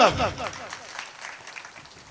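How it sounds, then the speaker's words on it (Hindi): An audience at a Hindi poetry recital breaks into applause, loudest at first and then thinning into scattered claps under continuing voices. "एक बार ताली ढंग से बजा लो।"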